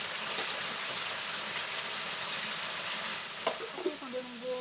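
Chicken gizzards and quail eggs frying in a pan give a steady, dense sizzle throughout, with a few soft clinks and bubbling pops near the end.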